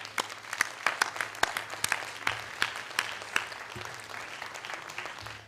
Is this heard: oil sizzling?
no